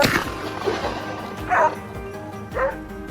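A pack of hunting dogs bays at a wild boar at the base of a slope: repeated loud barks and yips in bursts about a second apart, with whimpering between them, fairly close.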